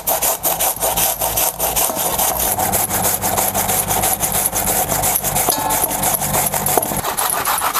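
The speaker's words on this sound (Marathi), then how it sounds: "असंच आपल्याला हे किसून घ्यायचं।" Fresh pumpkin is grated by hand for traditional sweet gharge, giving a steady run of close, rhythmic rasping and scraping strokes that continue without pause throughout.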